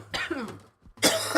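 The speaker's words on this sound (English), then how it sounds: "I'm coughing for sure because it was a big one" Harsh coughing after inhaling a large cannabis dab, two rough bursts close to the microphone separated by a short pause, the second louder and breathier.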